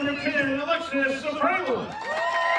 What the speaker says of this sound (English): as you can hear the fans cheer